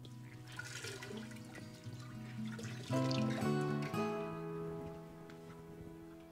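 Marigold-dyed wool yarn is rinsed under running water, a steady rushing flow with ringing tonal overtones that swells louder partway through and then eases off, with no talking.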